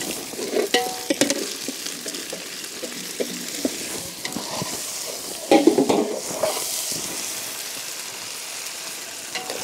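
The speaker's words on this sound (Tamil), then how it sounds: "இப்போ நம்ம என்ன பண்ண போகிறோம்னா தக்காளியை போட போகிறோம்." Tomatoes drop into a pan of frying ginger garlic paste and are stirred, giving a soft sizzle broken by clustered scraping and knocking bursts of the spoon against the pan.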